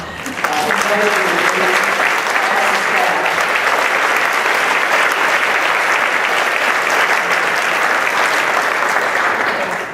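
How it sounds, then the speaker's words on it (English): At an AFSA awards ceremony, the audience breaks into a loud, continuous round of applause, dense clapping rising quickly and holding steady before tapering right at the end, with brief voices at the very start. "So I'd like to invite you to second the round of applause"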